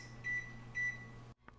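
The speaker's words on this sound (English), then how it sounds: "And set your timer for 20 minutes." An oven timer is set for a cheesecake, giving two short, clear electronic beeps about half a second apart over a low appliance hum, followed by a brief click and a faint final tone.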